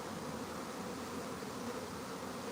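A large honeybee swarm being moved into a ten-frame Langstroth hive gives a dense, continuous buzz, steady and loud with no pauses and no voices.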